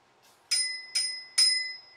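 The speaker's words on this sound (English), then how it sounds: "Someone asked me to ring the bike bell." A bicycle bell rung three times in a row, bright metallic dings with ringing tails, close and clear over near silence.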